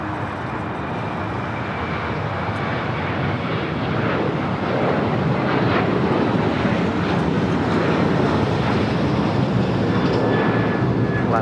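A jet airliner rolls for takeoff on runway 25 right at LAX, a loud sustained roar building steadily and filling the whole stretch, with faint radio talk underneath.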